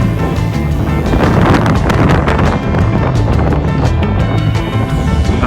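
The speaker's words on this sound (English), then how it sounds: "I mean, it's windy right now" Strong wind buffets the microphone on a high mountain 4x4 trail above 10,000 ft in the Sierras, a steady loud rumbling roar with no talk.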